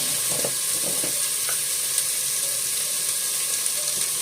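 Onions fry in a pan with salt and turmeric added, giving a steady, close sizzle that runs unbroken throughout, with faint scraping of stirring and no talk.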